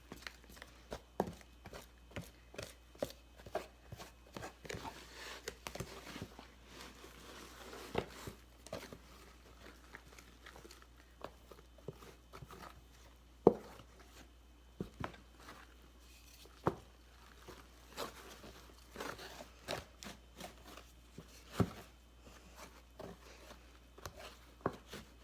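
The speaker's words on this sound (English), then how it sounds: "we're just going to mix these together. And this dough whisk is great." A dough whisk works through sourdough bread dough, giving a run of soft, irregular close-up taps and scrapes against the bowl, with a few sharper knocks standing out over about 25 seconds of quiet mixing.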